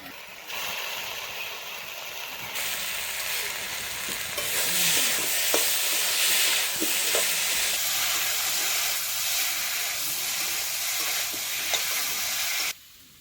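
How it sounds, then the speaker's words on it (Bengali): Spices with onion paste and garlic paste fry in a pan for a chitol fish moitha, a steady close sizzle and hiss that runs unbroken with light stirring clicks, then cuts off sharply. No one speaks. "মশলা ভাজা হয়ে গেছে"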